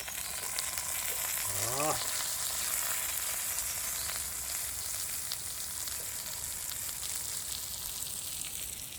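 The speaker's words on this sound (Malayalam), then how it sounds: "ഇവനെ വെളിച്ചെണ്ണ ഇങ്ങനെ പൊരിക്കട്ടെ" Continuous loud sizzling and crackling of fish frying in coconut oil, with a brief rising whistle-like tone early on.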